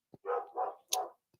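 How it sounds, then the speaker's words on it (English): A dog barks three times nearby, loud and close, with short gaps between barks in an otherwise quiet room. "I don't know if you hear her barking."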